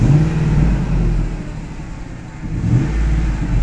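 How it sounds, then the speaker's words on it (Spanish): A car engine runs close and loud with a deep rumble, rising and swelling at the start and again near the end as it is revved, then settling in between. "para que oigan cómo suena el motor"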